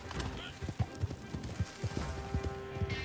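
A horse's hooves clip-clop steadily in Red Dead Redemption 2, an even trotting rhythm of muffled thuds over a low game soundtrack drone.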